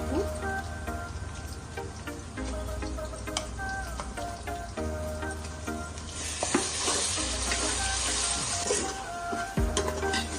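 Ginger garlic masala paste sizzles steadily in a pan for Nellore chicken biryani, a close, even crackle that swells brighter partway through, with faint utensil scrapes now and then.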